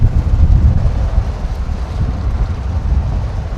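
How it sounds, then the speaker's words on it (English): Strong wind buffets the microphone while riding in a golf cart at an outdoor shooting complex in Las Vegas, a steady low roaring rumble that fills the whole stretch without a break. "it's really, really windy and really dusty, dirty out here while we're driving in the golf cart"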